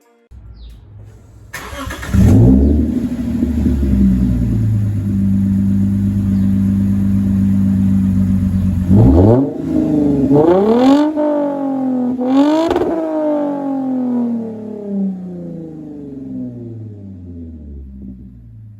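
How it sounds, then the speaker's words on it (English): A Lexus engine with a resonator exhaust starts and idles with a deep, steady rumble, then revs sharply several times, each rev rising and falling, loud and close. "that's pretty much it for how this car should sound."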